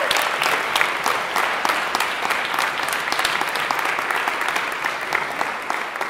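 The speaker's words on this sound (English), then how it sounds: "You can give him a round of applause." An audience at a senior music recital claps steadily and densely throughout, a sustained wash of applause that stays at an even level without any voices standing out.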